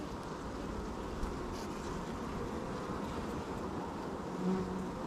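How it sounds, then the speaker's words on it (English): Honey bees buzzing around an open hive during an inspection, a steady, faint, close hum that runs throughout with no talking. "We need to be able to make sure our bees are healthy"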